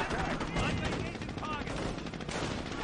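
Rapid, continuous machine gun fire in a video game rattles on as a dense, fairly quiet barrage with no pause.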